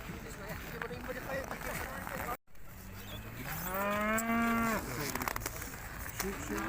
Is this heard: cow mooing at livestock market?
yes